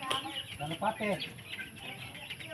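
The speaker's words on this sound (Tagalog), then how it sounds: "Danay manok ni Tatik na palita." Chickens cluck in short bursts close by, mixed with people talking over a busy, noisy background.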